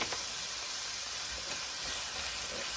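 Carrots and red pepper sauté in a pan, giving a faint, steady sizzling hiss with a few soft scrapes.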